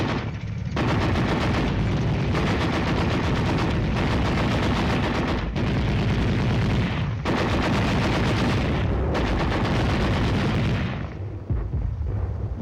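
Heavy military gunfire during night tank operations, loud and continuous, with sustained bursts of rapid automatic fire and booming shots broken by brief pauses, then trailing off near the end.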